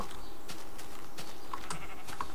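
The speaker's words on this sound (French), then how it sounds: "j'ignore pour l'instant les moutons, l'utilité est réduite, la laine sert à faire des tableaux" Sheep bleating in the Minecraft video game, a few short, faint bleats scattered over quiet in-game background noise, with no talking.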